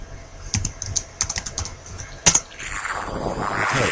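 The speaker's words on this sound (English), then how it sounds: "we're just going to enter a new password" Keys clatter on a computer keyboard as a new root password is entered, a short run of separate clicks and taps close to the microphone, followed by a rising hiss of background noise.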